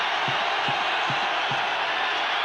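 Steady roar of a large stadium crowd at a 1990 NFL game, Raiders at Bills in Buffalo, loud and continuous throughout with no clear peaks, heard alone without commentary.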